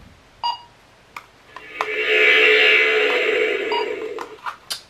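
A shrill electronic beep from a gadget unwrapped as a Christmas gift, a few short chirps leading into a sustained, loud, grating tone lasting around two seconds, then more brief bleeps, close and without talk.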